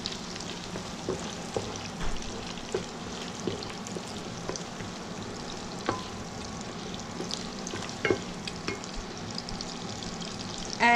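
Garlic, ginger and green chili frying in a pan for butter chicken, a continuous close sizzle with occasional stirring scrapes and clinks throughout.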